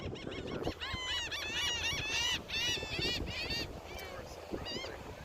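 Several seagulls calling with squealing cries on Clearwater Beach, Florida, overlapping and fairly near, over a steady outdoor background murmur.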